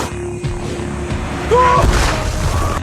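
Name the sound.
rocket explosion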